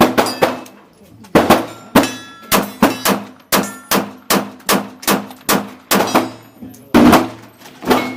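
Rapid-fire shots from a SCCY CPX-3 pistol at a shooting range, about fourteen sharp, loud reports in a quick, slightly uneven rhythm. The shots come close together and ring out briefly after each one.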